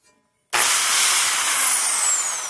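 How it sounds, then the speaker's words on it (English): After a brief quiet, a power drill fitted with a stripping disc spins up abruptly into a steady, harsh grinding whine against a cast iron skillet that holds for a couple of seconds. "you hook it to a drill"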